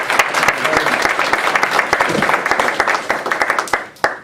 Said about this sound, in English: can we have another round of applause for our panelists?